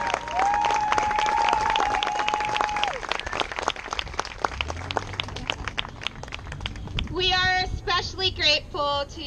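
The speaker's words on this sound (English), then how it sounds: "let's thank him with a big round of applause" An outdoor crowd at a Rail Trail groundbreaking ceremony applauds former Representative Sam Farr, scattered claps and a few whoops building after a held tone fades, with voices and cheers rising near the end.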